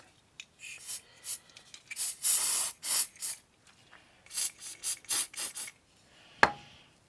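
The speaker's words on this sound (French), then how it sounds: "On met du lubrifiant silicone." Silicone lubricant sprays in a string of short, sharp hissing bursts, some single and some in quick clusters, close up, during the rebuild of a Mercedes power steering pump, followed by a brief metallic clink near the end.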